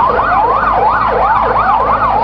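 An ambulance siren wails in a fast, repeating up-and-down pattern, loud and close, with nothing else audible, at a plane crash and fire at Osmani International Airport, Sylhet.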